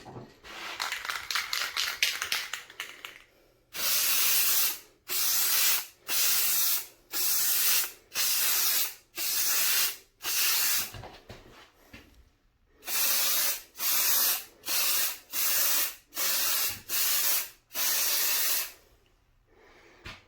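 An aerosol can sprays adhesive onto a board, hissing in a long series of short, even bursts with brief pauses between, close and clear, like repeated overlapping horizontal spray passes.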